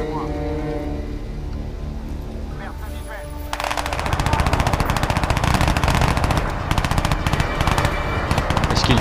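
Rapid bursts of enemy automatic gunfire in the shooter game Crysis 2 start abruptly partway through and continue loud and dense, over music and game ambience.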